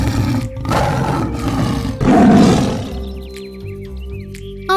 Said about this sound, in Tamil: ஏதோ ஒரு சிங்கம் கர்ஜிக்கிற சத்தம் அவங்களுக்கு கேட்டுச்சு